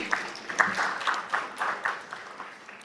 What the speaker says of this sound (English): Applause for Team D.